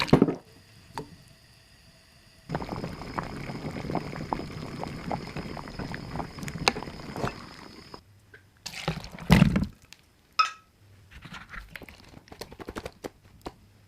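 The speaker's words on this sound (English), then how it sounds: "Add water to the pan, then add salt to the water, then add the potatoes." Potatoes are dropped into salted water in a pan, with soft splashes, wet squishes and clinks in separate bursts between quiet pauses, close and fairly faint.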